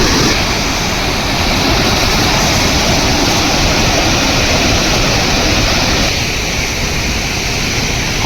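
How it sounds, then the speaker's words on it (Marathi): Floodwater rushing fast over a submerged Kolhapuri weir at the Rajgurunagar bypass: a loud, dense, unbroken roar of fast-moving water from close by. "पुराचे पाणी पाहू शकता किती खतरनाक स्पीड आहे पाण्याला"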